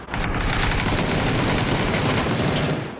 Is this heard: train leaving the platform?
no